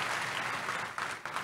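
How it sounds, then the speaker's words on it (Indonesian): A church congregation claps loudly and briskly, a dense burst of hand-clapping that fills the room and holds steady for a moment. "Kasih tepuk tangan yang meriah untuk Tuhan Yesus."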